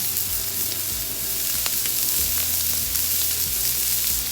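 Chuck roast searing hard on a Blackstone flat-top griddle outdoors, a loud, dense sizzle close by with a low hum underneath and no voices.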